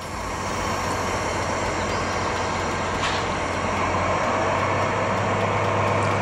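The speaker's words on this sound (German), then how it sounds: "Gleis 4, Einfahrt RB nach Memmingen über Villinger Straße." A regional train bound for Memmingen pulls into platform 4 at Ulm Hauptbahnhof, with a loud, steady rolling rumble and broad hiss of wheels and carriages that fills the platform without pause.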